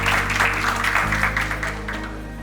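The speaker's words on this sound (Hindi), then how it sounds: "एक बार तालियों के साथ सभी का स्वागत करें।" A college orientation program audience claps in a brief, dense burst of applause that fades slightly toward the end, with a low steady hum underneath.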